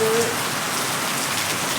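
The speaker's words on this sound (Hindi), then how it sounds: "तेज़ हो गई है बारिश बहुत" Heavy rain pours steadily outdoors at a house during an evening downpour, a dense continuous hiss of drops on surfaces, loud and close with no pause.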